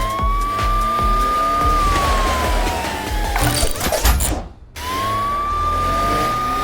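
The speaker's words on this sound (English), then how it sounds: "Matilda, I think it's time to use that siren." A cartoon siren wails in a long, steady tone that slowly falls, drops out briefly after a clattering burst, then rises and holds again.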